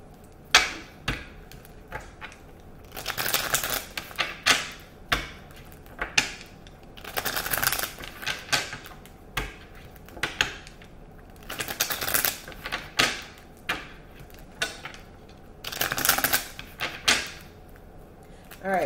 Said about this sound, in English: we're going to shuffle up a couple times